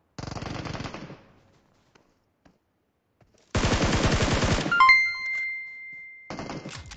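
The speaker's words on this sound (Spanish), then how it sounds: "me está disparando otro baboso" Bursts of rapid automatic gunfire in a shooter video game, a long rattling volley followed by a silent gap and then another loud burst with ringing metallic dings before the firing starts again.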